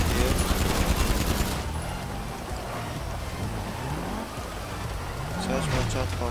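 Rapid automatic gunfire rattles out in a dense burst during a Prison Break heist in GTA 5 Online, then drops away to a quieter game backdrop with a vehicle-like whoosh rising near the end.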